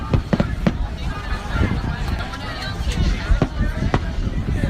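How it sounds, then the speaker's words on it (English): Fireworks burst in a quick irregular series of sharp cracks and pops over a noisy background. "Those are some good fireworks."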